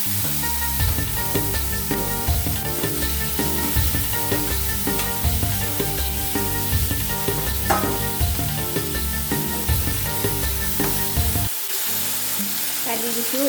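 Green chilies and tomatoes fry on a low-to-medium gas flame in a pan, giving a loud, steady sizzle with scraping stirs throughout that cuts off near the end.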